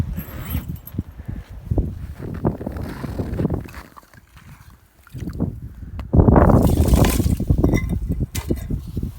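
Water being scooped and sloshed from an ice hole on a winter ice-fishing trip in a harsh blizzard, collected to boil for tea. Close splashing and scraping noises come and go, then grow loudest and most continuous near the end.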